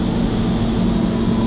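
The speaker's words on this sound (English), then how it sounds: "The vacuum pumps are over there" Constant loud mechanical drone of dairy milking vacuum pumps running nearby, a steady hum with a strong low tone and hiss, no pauses.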